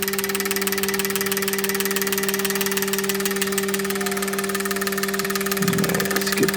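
A car engine fitted with eBay aftermarket fuel injectors idles steadily up close, a constant hum with a rapid even ticking throughout, and a brief extra rattle near the end.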